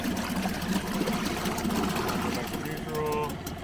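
A used outboard motor runs on a small inflatable dinghy, revving fairly high with a steady droning hum, continuous and close throughout, while people talk over it.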